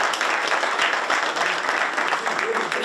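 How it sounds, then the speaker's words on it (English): A football team claps for teammates who gained weight during spring training, a short burst of many hands clapping together nearby, dense and fairly steady. "Y'all clap it up for those guys."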